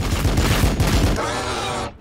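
Rapid rhythmic bursts of battle gunfire from the Warhammer 40k Battle Sector video game, Blood Angels campaign. Loud shots repeat steadily for about a second, then give way to a fading rumbling tail that cuts off abruptly.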